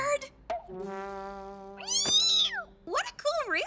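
A cartoon cat from Strawberry Shortcake meows in a few drawn-out, wavering calls, close and fairly loud, with a held tone and other animated sounds around them.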